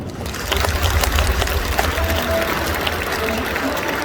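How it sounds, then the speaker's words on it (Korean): An audience applauds at the Okcheon County Citizens' Day ceremony in Korea: a broad, rushing wash of many hands clapping together, fairly loud and sustained throughout, with a low rumble of the hall beneath. "다시 한번 큰 박수 보내주시오"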